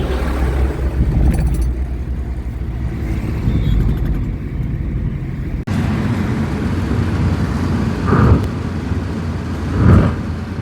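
A car driving along a highway in Tamil Nadu, giving a steady interior rumble of engine and road noise, with two brief louder swells of passing traffic near the end.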